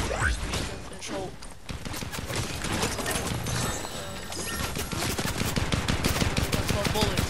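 The MK Alpha rifle in Fortnite fires in rapid, steady bursts of sharp cracks under loud game noise, the rhythm quickening toward the end.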